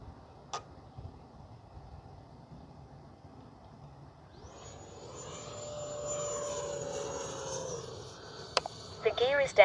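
E-flite 70mm Viper electric ducted-fan RC jet flying overhead, its whine swelling and fading in the open air during a landing-gear pass, with faint talk and a few sharp clicks near the end.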